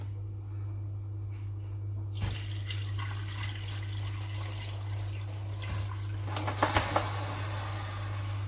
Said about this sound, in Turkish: etlerimi haşladım et suyunu dökmek istiyorum